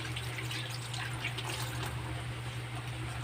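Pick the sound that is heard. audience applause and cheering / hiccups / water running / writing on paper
water running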